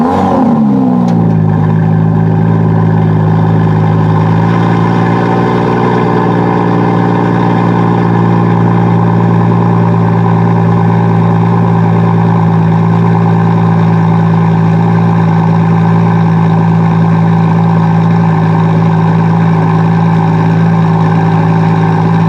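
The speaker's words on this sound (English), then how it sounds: "It's especially impressive when cold starting in Sport Plus mode, as I'll show you next with a quick 30-second clip." A 2017 Aston Martin DB11 V12 cold starting in Sport Plus mode: a sharp flare at ignition that settles within seconds into a loud, steady, deep idle drone lasting the whole time, close by and with no talk.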